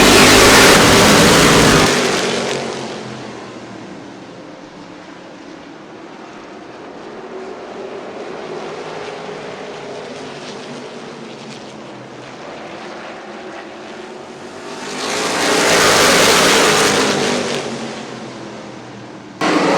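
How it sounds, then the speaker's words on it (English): A field of dirt-track race cars roars past at the green flag start, engines swelling loud as they pass, fading into a distant drone around the oval, then surging close again on the next pass. "Green flags in the air. Let's go racing."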